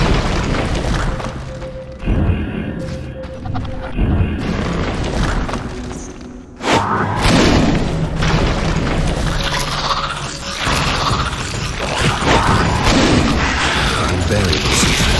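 A collapsing passage in The Witcher game, brought down by toppling, rumbles as heavy booming crashes and debris under steady noise, with a sharp renewed burst near the middle and continuing loud rubble.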